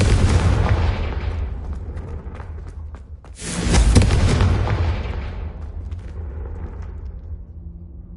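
Confringo fire spell blast in the Hogwarts Legacy video game: a loud, booming explosion bursts out mid-clip over an already rumbling, crackling battle din, then slowly fades.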